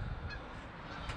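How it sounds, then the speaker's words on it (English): Wild geese honk as they fly away, faint and distant calls under steady wind and low rumbling noise, outdoors in wet, cold weather. "The wild geese are leaving."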